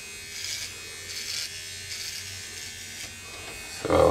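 A Micro Touch Solo Titanium electric trimmer buzzes steadily in close, pulsing as it moves over stubble, with a louder burst at the end.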